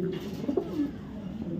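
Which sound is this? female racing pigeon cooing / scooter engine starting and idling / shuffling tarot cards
female racing pigeon cooing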